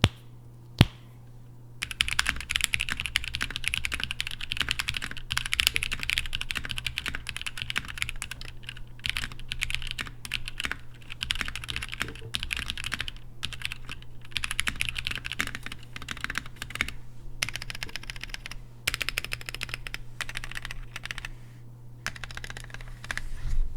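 Someone types steadily on a Tofu 60% mechanical keyboard fitted with Novelty Creams switches, giving a close run of crisp, uneven keystroke clacks over a low steady hum, with no talking.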